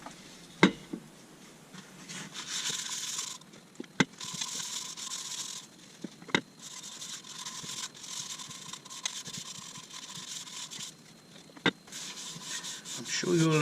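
Sanding sealer rubbed onto an elm bowl makes several bursts of soft, close rubbing and scraping, each lasting a second or more, separated by quieter gaps with scattered light knocks.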